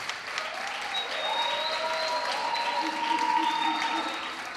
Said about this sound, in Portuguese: Uma salva de palmas para a Daiane, gente.